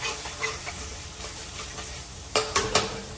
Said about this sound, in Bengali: লঙ্কা গুঁড়ো, স্বাদ মতো লবণ, সামান্য একটু চিনি। মশলাটা ভালো মতো কষেছে